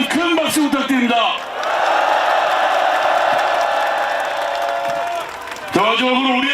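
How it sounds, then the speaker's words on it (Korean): A large crowd at an outdoor political rally calling for the president's resignation breaks into several seconds of sustained applause and cheering for opposition leader Lee Jae-myung, with an amplified speaker talking just before and after. "이재명 대표님께 힘내시라고 다시 한번 큰 박수 부탁드립니다"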